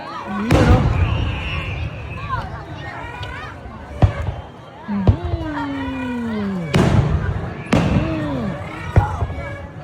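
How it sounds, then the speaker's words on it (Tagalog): Independence Day fireworks in the USA bursting and crackling overhead, with several booms and whistling rockets rising, while people talk and exclaim excitedly throughout. "Muulan ng fireworks."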